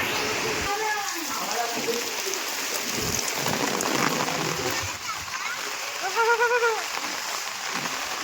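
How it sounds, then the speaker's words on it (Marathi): Heavy monsoon rain pours on a Konkan village, a dense, even hiss of drops drumming on surfaces, loud and unbroken, with a person speaking in short bursts over the downpour. "अगदी मेन पावसाचा पाऊस सुरू झाला"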